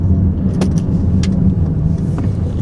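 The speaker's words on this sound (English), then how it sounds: "you accelerate a little bit, you can feel it launch" A 2017 Mercedes GLC 43 AMG pulls away from a start, its engine a steady low drone throughout with a few faint ticks and rattles in the cabin, close and fairly loud.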